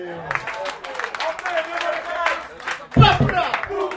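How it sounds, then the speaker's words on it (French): Audience applause at a comedy club show, a spread of crowd clapping mixed with voices, swelling into a louder burst of claps toward the end. "On applaudit."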